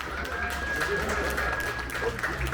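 An audience claps at an award ceremony in Mons, a steady wash of applause running throughout, with a voice speaking over it.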